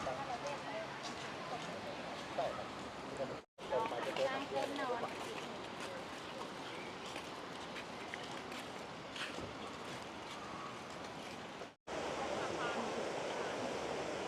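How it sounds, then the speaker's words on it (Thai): Khlong Nam Lai waterfall in Kamphaeng Phet, Thailand, a steady broadband rush of falling water that runs nearly throughout, with two brief dropouts and someone speaking over it. "ตรงนี้คือน้ำตกของน้ำไหลเนาะ"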